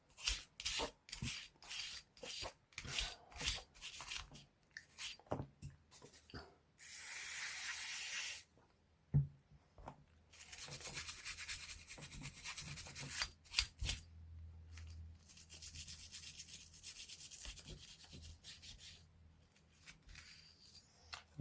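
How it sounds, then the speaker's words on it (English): Brush scrubbing an oiled CZ Shadow 2 competition pistol during cleaning, close and quiet, with short repeated bristle strokes and rubbing bursts separated by pauses. "We're just going to give it a brush."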